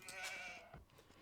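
Sheep bleating in the Age of Empires II strategy game, a short faint bleat heard alone, fading within about a second.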